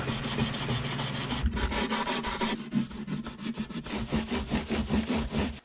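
A scuff pad rubbed briskly over the body of a 20th Anniversary Squier SD-6G acoustic guitar, with fast, close back-and-forth scratchy strokes that keep up a steady rhythm throughout and no talking.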